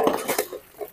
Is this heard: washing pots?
yes